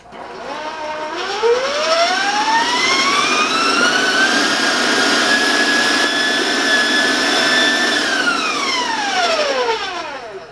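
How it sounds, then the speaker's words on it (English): An electric stand mixer beating crumb cake batter whines up in pitch, holds a loud steady high-speed whir for several seconds, then winds back down. "I'm going to turn my mixer up so I don't warn you about the sound"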